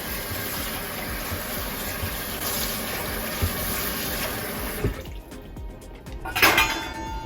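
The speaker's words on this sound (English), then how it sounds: "Now I rinse the water." Water runs steadily from a kitchen tap while a pot is rinsed, a broad rushing hiss that cuts off after about five seconds, followed by quieter splashes and a brief clatter.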